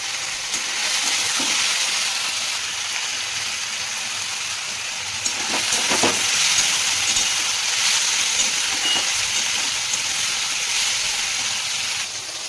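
Pumpkin pieces frying in a wok, a loud steady sizzle with a few clatters and scrapes partway through.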